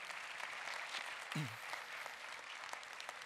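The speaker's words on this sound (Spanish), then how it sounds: "Otro aplauso también para ellos, los que nos ven en línea" Church congregation applauding during a sermon service, a steady wash of many hands clapping at low level throughout, with a brief low voice or thump near the middle.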